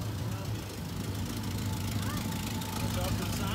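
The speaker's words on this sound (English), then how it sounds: "Got a little exhaust leak." A Pontiac Grand Prix engine idling with a small exhaust leak, a steady low rumble with a faint ticking texture that holds evenly throughout, heard close up.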